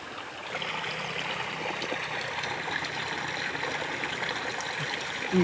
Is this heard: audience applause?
no